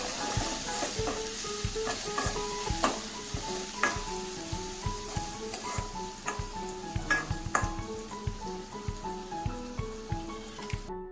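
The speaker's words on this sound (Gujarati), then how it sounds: "ડુંગળીને આપણે સંતળાવા દઈએ અને હવે આપણે લીલા મરચાંના ટુકડા એડ કરી દઈએ" Onions, garlic and green chilli pieces sauté in a pan for dhaba-style dal bati, with a steady sizzle broken by repeated sharp stirring scrapes of a spoon against the pan, close and clear with no talking.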